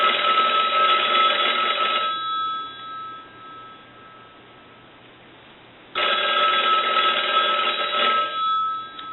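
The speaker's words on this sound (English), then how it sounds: "we can go ahead and ring the unit" A converted single-slot payphone rings during repair testing, two long bursts of a loud electric bell separated by a roughly four-second pause, close and alone.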